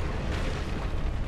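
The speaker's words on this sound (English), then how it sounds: "Another explosion." A sustained rumbling explosion in Dark Souls Remastered, a dense low boom that holds steady for over a second with no voices.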